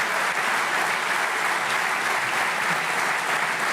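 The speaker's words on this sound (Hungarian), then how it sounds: "A bejelentést akkor vastaps fogadta." Thunderous applause greets an announcement, a dense and steady wall of clapping from a large crowd that keeps a constant loudness from start to finish.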